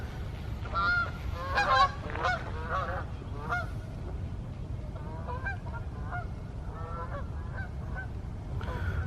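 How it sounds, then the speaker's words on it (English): A flock of geese flying over an autumn landscape in New England, honking in repeated overlapping calls that rise and fall steadily over a low outdoor rumble. "Massive geese flyover coming over right now"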